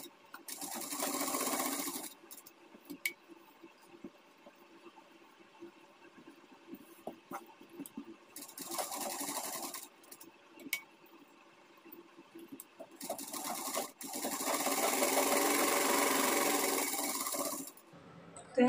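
A sewing machine stitches a blouse in three separate bursts of fast, even whirring, with quiet pauses between runs and no talking.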